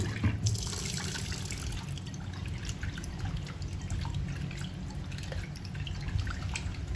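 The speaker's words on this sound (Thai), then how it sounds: "เราเติมน้ำส้มสายชูลงไปนิดหน่อยค่ะ แล้วก็เติมน้ำ" Tap water trickles steadily into a bowl of raw liver being rinsed with a splash of vinegar, a continuous close splashing and dripping with no talk.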